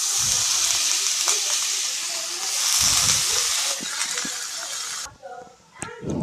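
Sliced bottle gourd drops into a hot pan with cumin powder, red chilli and black masala, producing a loud, bright sizzle that holds steady and then cuts off abruptly as stirring begins.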